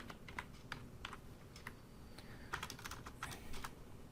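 Computer keyboard typing, faint and close, with irregular separate keystrokes spread across the stretch and no voices.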